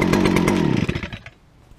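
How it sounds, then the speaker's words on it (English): A 2011 Stihl FS38 string trimmer with a 27cc engine on choke runs loudly and briefly, its buzzing drone sputtering and dying away within about a second. "2011 Stihl FS38 27cc engine."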